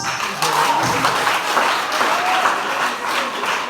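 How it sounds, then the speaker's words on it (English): Audience at an interschool debate applauds steadily for nearly four seconds, a dense, even wash of many hands clapping at moderate distance with a few faint voices mixed in. "A hand of applause."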